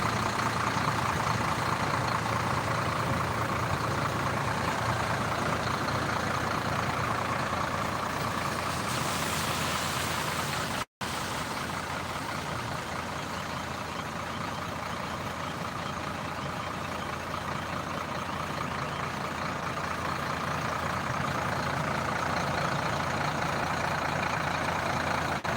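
Buses idle at the Sinar Jaya bus agent at Seruni terminal in Cilegon on a rainy day, a steady loud engine drone and hiss holding for the whole stretch with a brief dropout partway, no talk heard.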